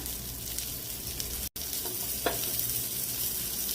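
Bangda mackerel fish fry on a hot griddle with a steady, dense sizzle that runs throughout, broken by one brief silent gap and a couple of faint clicks.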